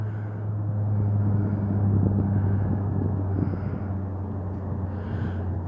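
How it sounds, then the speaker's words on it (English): An airplane passing low overhead, a continuous deep droning rumble that stays steady and fairly loud throughout, with some wind noise and no talk. "Listen to the plane. There's always planes on top of me"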